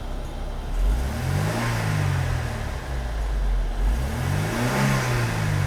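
A Mercedes W123 230E engine, freshly repaired for a fuel distributor fault, revs up twice during an acceleration test, rising and falling, close and loud.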